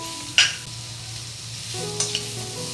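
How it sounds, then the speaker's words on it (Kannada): Ridge gourd fries in a pan with turmeric, a close, quiet sizzle with two sharp spoon scrapes as it gets stirred, and no one talking. "ನೋಡಿ ಫ್ರೈ ಆಗ್ತಾ ಇದೆ"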